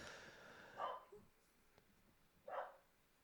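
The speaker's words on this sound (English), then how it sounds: "My dog's not outside though, so God knows who they're barking at." Dogs barking outside, heard faintly from a distance as two separate short barks about two seconds apart, each standing alone against a quiet background.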